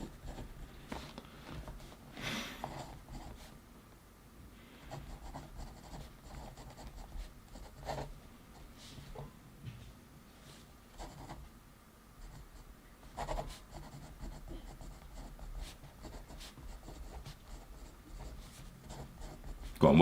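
A pen writes goals on paper with soft, continuous scratching and occasional taps, close and quiet throughout, with light rustling.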